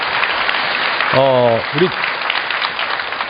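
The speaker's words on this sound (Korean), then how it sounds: "다시 한번 박수 좀 부탁드리겠습니다." Studio audience applause at a televised Korean city forum, steady broadband clapping throughout with someone speaking briefly over it.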